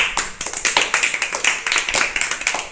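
Children in a classroom clapping together in a quick, even rhythm of sharp, close claps that run for a few seconds without a break, with no talking over them.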